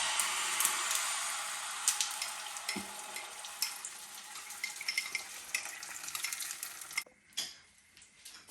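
Mustard and sesame seeds sizzle and crackle in hot oil in a home kitchen, a steady bright frying hiss with scattered pops and ticks, ending in a quieter stretch with a couple of utensil clinks.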